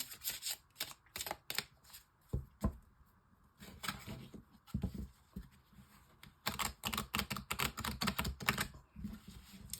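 Oracle cards are shuffled for a six-card reading. The riffling and flicking of the cards comes in rapid bursts, close and crisp, with brief pauses between runs and no talk.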